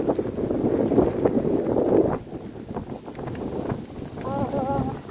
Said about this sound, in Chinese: 哦哦，风很大。